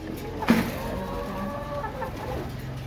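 Native chickens clucking softly nearby against farmyard background noise, with a sharp knock near the start.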